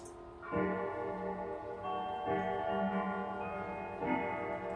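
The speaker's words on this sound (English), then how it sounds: "one of our other clocks just chiming at the moment" A Howard Miller walnut grandfather clock with triple chime strikes three times at steady intervals, each ringing tone lingering and fading before the next, clear and close with no talking.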